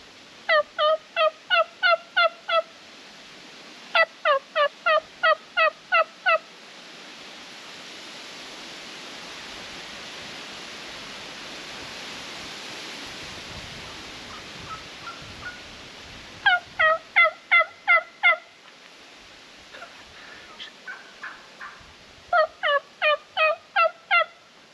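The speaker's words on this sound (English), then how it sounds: "Sounds like I might have a few turkeys back here." Wild turkeys gobble in the woods during a hunt, several quick rattling gobble bursts that come in separate volleys, loud and somewhat distant, over a steady background hiss.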